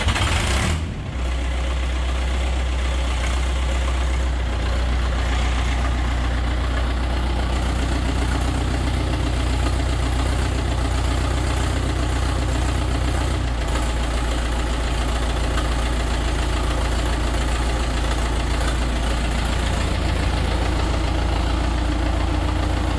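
A Ford 6610 tractor's diesel engine fires up and settles into a loud, steady, low rumbling idle with a knocking throb, running continuously and close by with no talk.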